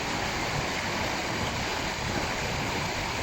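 River water rushing steadily at the confluence of a large stream and Bhuk Khola in Badighat, Baglung district, Nepal, a loud, unbroken broadband roar close to the bank.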